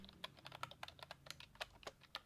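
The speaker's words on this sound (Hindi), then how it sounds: "कीबोर्ड खुद ब खुद चलने लगता है और एक टाइपराइटर जैसी आवाज़ सुनाई देती है।" Typewriter-like clatter of keys struck in quick, uneven bursts, about two dozen crisp close clicks with no voices.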